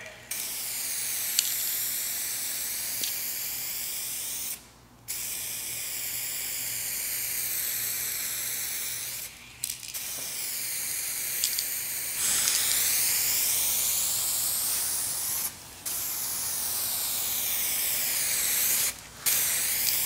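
A rattle can spray-painting a car panel sprays in long steady hissing bursts, with brief pauses between passes, close and fairly loud.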